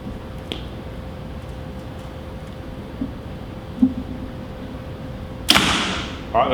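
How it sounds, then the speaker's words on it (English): After a long quiet stretch of faint hum and a few small clicks, an arrow from a tuned compound bow, fitted with a bare shaft, is loosed through a sheet of paper with a sharp, sudden snap and whoosh, followed by a brief thud. "We're going to shoot through paper, and then we'll go up there and see the result"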